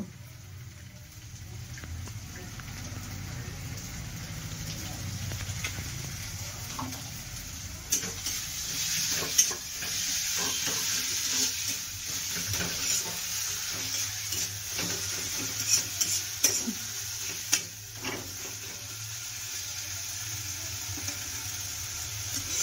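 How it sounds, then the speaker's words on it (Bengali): Spice masala sizzling and frying with onions in a pan for a potol and prawn curry, a steady close hiss with scraping stirring strokes and soft clatters throughout. "এত সুন্দর নাড়াচাড়া করে নিচ্ছে।"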